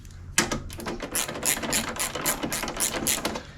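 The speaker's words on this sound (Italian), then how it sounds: "Adesso possiamo andare a stringere il bullone." Ratchet tightening a bolt on the air filter housing of a Nissan Qashqai J11, a rapid series of close, crisp metallic clicks repeating steadily for several seconds.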